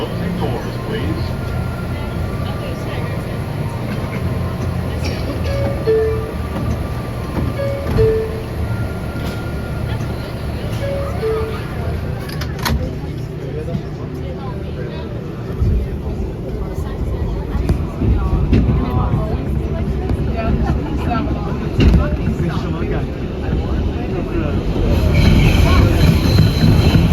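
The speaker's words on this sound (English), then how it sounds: "This is the Brooklyn Bridge bound 6th train." An NYC subway R142A 6 train bound for Brooklyn Bridge rumbling along the rails, a steady loud low roar with clattering wheels and occasional squeals, heard from inside the car, with a voice announcement over it.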